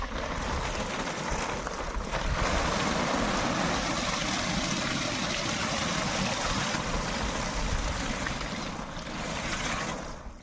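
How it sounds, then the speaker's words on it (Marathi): About 90 litres of water pour into a container for treating bamboo with boric acid and borax, a continuous rushing, gurgling splash that stays steady and fairly loud from start to finish. "आता आपल्याला 90 लिटर पाणी टाकायचं"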